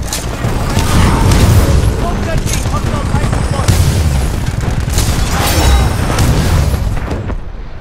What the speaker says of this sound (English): enemy Titan exploding. That's my favorite sound.